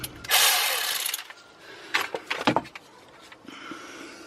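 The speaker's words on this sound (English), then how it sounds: "Let's get the slide bolts removed." Hand ratchet turning a 7mm Allen socket on brake caliper slide bolts of a car with a sticking caliper, a close rapid pawl clicking and metallic rasp in bursts, with a few knocks and a short pause between.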